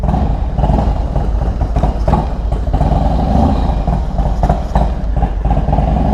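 Harley-Davidson Dyna FXDX V-twin idling while it warms up, a loud close, steady rumbling chug with a rapid uneven lope and faint mechanical clatter, no talk over it.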